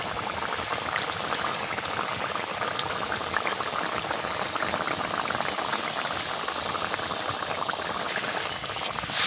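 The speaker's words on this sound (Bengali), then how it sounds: "এই দেখো ঘি দিয়ে দিচ্ছি ফুটিয়ে" A pot of potato curry (aloo dum) with ghee just added bubbles at a steady, vigorous boil, a continuous close, dense gurgling simmer running throughout with no voices.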